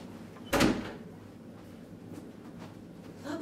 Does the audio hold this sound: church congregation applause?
no